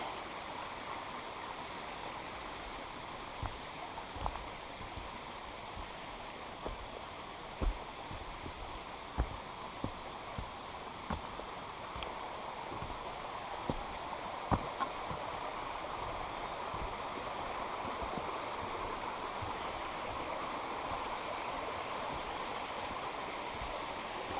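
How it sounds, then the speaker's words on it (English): A small waterfall cascade on Baskins Creek rushes with a continuous, even wash of flowing water, with faint scattered clicks and ticks over the top. "Another pretty little spot with a cascade."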